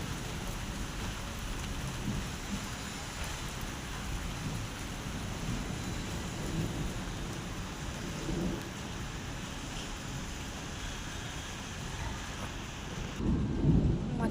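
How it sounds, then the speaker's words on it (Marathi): Heavy rain pours down steadily while thunder rumbles low in the distance, a continuous wash of falling water with a louder surge near the end. "पाऊस चालू झाला अजून."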